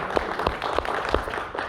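A church congregation at a Korean Sunday worship service in Cebu claps in a short, steady rhythm of distinct, fairly close hand claps, with no voices over them.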